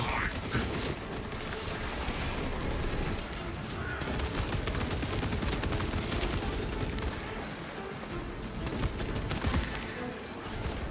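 A Heavy Bolter in Space Marine 2 empties a full magazine in a dense, unbroken roar of rapid heavy gunfire lasting about eleven seconds, loud and close, with explosions and game noise mixed in.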